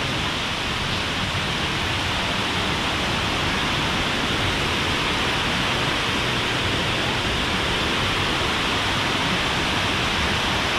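Mag Aso Falls on Negros island, Philippines: a steady, dense roar of falling water, loud and unbroken throughout, with no voices.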